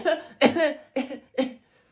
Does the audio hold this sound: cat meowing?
no